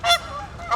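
Geese honk loudly beside Wascana Lake in Regina, with a sharp call at the start and another rising at the end over a steady chorus of nearer and farther birds.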